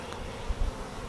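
Honey bees buzz steadily inside a Flow Hive as new comb, brood and honey are built up, a soft continuous drone close by with a few low bumps, no voices.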